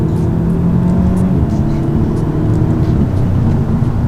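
A 2016 Audi S3 Prestige with stock exhaust accelerates on open roads, its engine giving a steady, moderately loud hum and whir heard from inside the cabin.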